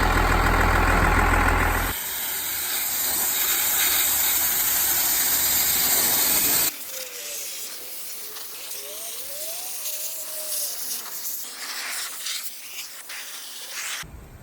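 A truck body being sandblasted in a corner of a parking lot sand pit: a loud, steady blasting hiss that cuts off partway through, leaving a quieter idling engine hum.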